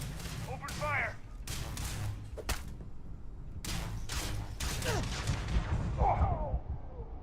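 Bursts of gunfire in the space game Starfield, several sharp volleys in quick clusters separated by brief gaps, with voices and shouting mixed in among the shots.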